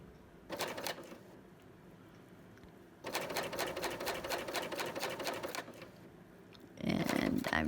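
A sewing machine stitches a rolled hem on fabric in the round, with two bursts of rapid, even needle chatter, one short and one longer, separated by quiet pauses, close and moderately loud.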